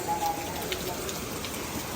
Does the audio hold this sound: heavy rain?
yes